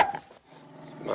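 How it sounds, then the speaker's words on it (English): A dog gives short growly barks at close range, mixed with some background noise, in a 1971 film scene. "What are you doing with that dog? Whose dog is that?"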